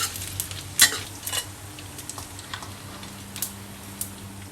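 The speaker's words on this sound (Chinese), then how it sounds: "把这个江鱼仔炸得金黄酥脆" Dried anchovies deep-frying in hot oil in a home kitchen for sambal chili paste give a faint, sparse crackle with scattered small pops and clicks over a low steady hum, no voices.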